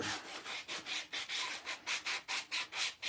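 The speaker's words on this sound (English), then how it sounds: "Grab my sander here, and we're now going to rough up the edges of our" A hand sander roughs up the edges of a small heart-shaped locket, a rhythmic series of close scratchy back-and-forth strokes that grows steadier and more even toward the end.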